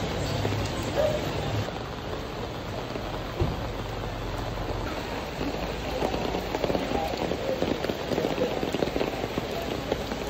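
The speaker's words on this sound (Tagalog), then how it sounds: "Lakas ng ulan, no?" Heavy rain pours steadily on a hard surface, a dense constant hiss with scattered drips, no voices.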